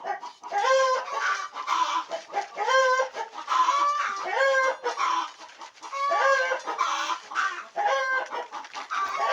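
Chickens cluck loudly and insistently up close in a series of repeated squawking bursts, with crowing-like calls among them and no talk.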